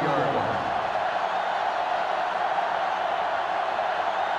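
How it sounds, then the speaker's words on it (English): Stadium crowd in NCAA Football 2005 roars steadily during a Utah rivalry game, a dense continuous wash of cheering with a voice talking over it. "this crowd is going absolutely insane"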